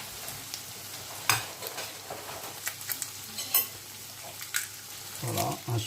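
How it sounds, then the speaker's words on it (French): Eggs dropped into a frying pan with onions for an omelette, a steady sizzle broken by scattered clicks and scrapes of utensils, closer bursts of spitting toward the end. "je vais donc ajouter 2 œufs"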